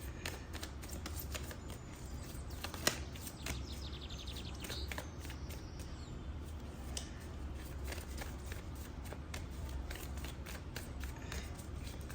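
Tarot cards are shuffled softly and close by, a stream of quiet riffling and flicking snaps with one sharper tap, low in level and alone.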